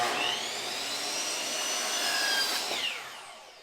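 A power screwdriver whines steadily as it drives a screw through pallet wood pieces, close and loud, with the motor pitch rising and then winding down at the end.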